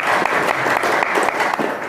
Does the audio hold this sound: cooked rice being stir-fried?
no